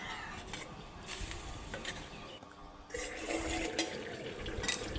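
A little water poured into a cooking pot of papaya curry gives a soft splashing trickle, followed by a steadier, louder gush of liquid in the second half, fairly quiet and close, with no voices.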